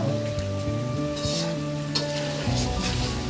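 Meat being fried and cooked down in a pan gives a continuous sizzle under a steady tonal hum from the surroundings, with no talking.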